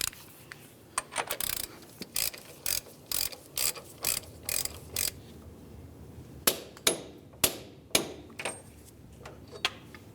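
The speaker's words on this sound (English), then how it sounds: "You can use a ratchet and your 32mm socket" A ratchet with a 32mm socket snugs up the front axle nut on a 2010-2013 Ford Transit Connect, making repeated close clicking bursts in a steady back-and-forth rhythm that grow sharper and louder toward the end.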